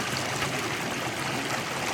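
Clear water flowing steadily along a small canal, a continuous close rushing and trickling wash with no pauses and no voices.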